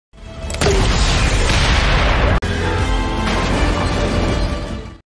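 A grenade launcher blast and a car crash in an action film scene make a loud, sustained explosive roar with a sharp crack midway, filling the whole clip.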